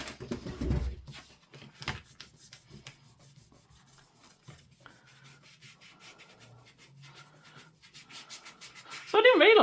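A dirty magic eraser rubbed dry against a surface, producing quick repeated scrubbing strokes, close and soft, with a louder rustle at the start and a brief burst at the end.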